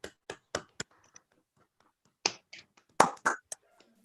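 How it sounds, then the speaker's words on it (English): A few people at an electrical engineering conference closing ceremony clap sparsely, with separate sharp handclaps in two small bursts and quiet gaps between them. "And the applause is actually for you."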